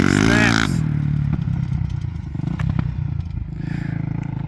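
Side-by-side fitted with a snowmobile engine and a suspected carburetor problem, a sharp loud rev that snaps off quickly, then a rough idling rumble with clatter nearby.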